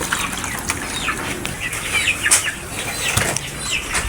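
Rapid bursts of wing flapping from chickens, close by, with scattered flutters and rustling and no talking.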